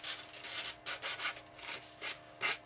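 Sandpaper rubbed by hand over painted foam on an RC Canadair airplane build, a series of short raspy strokes in an uneven back-and-forth rhythm, close and moderately loud, with no talking.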